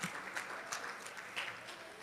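Applause from a conference audience at a women's healthcare gathering, a steady patter of many hands clapping with slight swells, filling the short stretch without speech.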